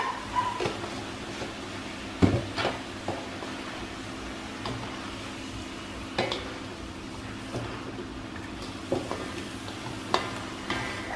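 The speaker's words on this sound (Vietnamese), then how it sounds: "Khi mình đảo một chập á là nó sẽ ra nước á" Pumpkin shoots and shrimp being stir-fried in a pan, a steady soft sizzle with intermittent scraping and tapping of the spatula against the pan, fairly close and moderately loud, with no talk.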